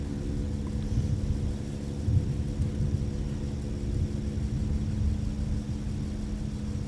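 An airliner takes off from runway 17 at Minneapolis–Saint Paul airport, heard as a steady, distant low rumble of jet engines that holds throughout, with no voices.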